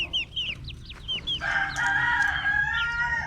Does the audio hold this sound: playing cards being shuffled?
no